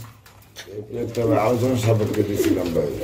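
Iranian pigeons give low, throaty, rolling coos in a breeding coop, close and continuous, with a person's voice talking underneath.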